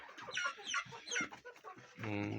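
Ameraucana chickens and young roosters clucking and chattering in short bursts nearby, ending with a louder, sustained call from one bird.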